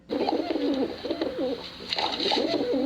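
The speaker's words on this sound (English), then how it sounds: "the pigeons coo." Pigeons coo in soft, throaty, rolling phrases, repeating in a steady rhythm close by.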